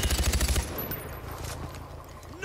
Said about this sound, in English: This guy has a pump gun.